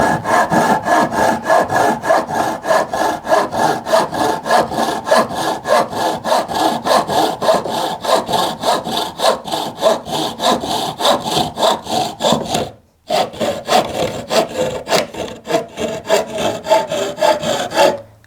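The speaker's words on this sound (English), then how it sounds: "just go very gently so that you don't split that timber. Just let the saw do the work." A hand saw cuts through pine moulding in steady back-and-forth strokes, loud and close with an even rasping rhythm, pausing briefly once before the sawing resumes; no voices are heard.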